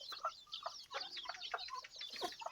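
Crossbred chickens from a hen of one breed and a fighting-type rooster cluck busily in a farmyard, a steady run of short overlapping clucks and chirps at moderate distance with no talking.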